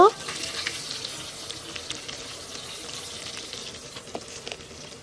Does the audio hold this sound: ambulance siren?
no